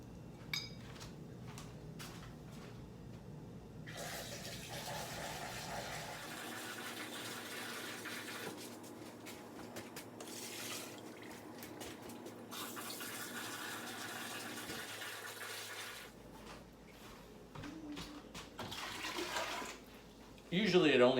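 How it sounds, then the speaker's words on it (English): One gallon of water pours steadily into a fermentation vessel for mushroom wine, a continuous gushing rush lasting about twenty seconds that shifts in tone partway through, with a faint voice now and then. "fill up my fermentation vessel with 1 gallon of water."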